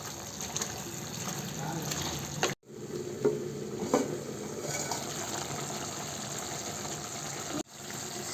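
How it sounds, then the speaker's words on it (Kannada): Ginger garlic paste frying in a clay mud pot while a chicken curry is made, with a steady close sizzle and occasional stirring scrapes, broken by a brief dropout partway through. "ಇವಾಗ ಶುಂಠಿ ಬೆಳ್ಳುಳ್ಳಿ ಪೇಸ್ಟ್ ಎಲ್ಲ ಹಾಕಿದ ಮೇಲೆ ಸ್ವಲ್ಪ ಚೆನ್ನಾಗಿ ಫ್ರೈ ಮಾಡ್ಕೊಳ್ಳೋಣ"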